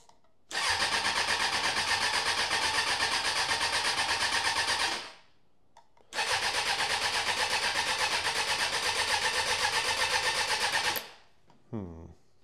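A Suzuki Bandit motorcycle engine cranks without catching, making two long, loud, rhythmic starter-motor churns of about four to five seconds each, separated by a short pause, then a brief whirring tail.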